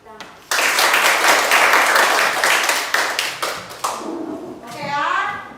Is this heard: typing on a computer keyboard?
no